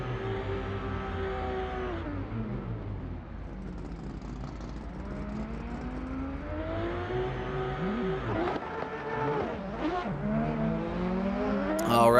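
Nissan S14 and Toyota A80 Supra drift cars in a racing video game, engines revving and accelerating hard with shifting pitch and bursts of tire squeal, loud and continuous throughout.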